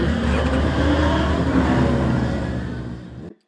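A 2003 Mustang Mach 1's engine roars steadily at high revs while spinning its tires to heat them, dense and loud, with rough grinding noise throughout before cutting off abruptly at the end.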